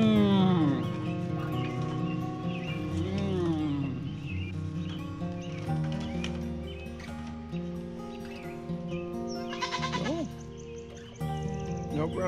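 Goats bleating close by, several wavering cries scattered over the clip, mixed with people talking and some shuffling noise.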